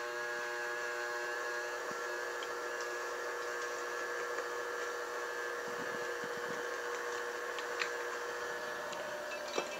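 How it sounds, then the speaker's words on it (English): A KitchenAid stand mixer kneads pizza dough with a steady, whining motor hum. The tone stays even and moderately quiet throughout, broken only by a few faint clicks and knocks. "we're going to let the KitchenAid mixer knead it"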